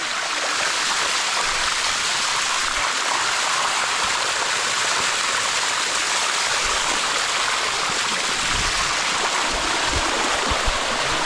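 A waterfall and stream pour steadily for the whole stretch in a dense, unbroken roar of rushing water, loud and close, with no voices.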